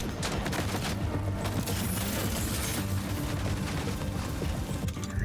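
Sustained covering gunfire in the video game Death Stranding 2, a dense, continuous rattle of automatic shots and bursts that carries on loudly throughout with no voices over it.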